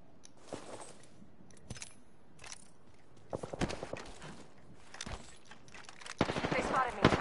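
Sporadic gunfire aimed at the player in a shooter game, arriving in short scattered cracks and bursts that grow denser toward the end, with quiet stretches between.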